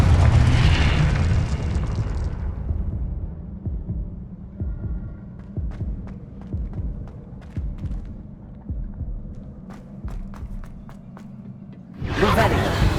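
A Confringo blasting spell explodes during a Hogwarts Legacy boss fight against the Pensieve Guardian: a heavy booming burst opens, then a run of low thuds and rumbling impacts, and another loud blast rises at the end.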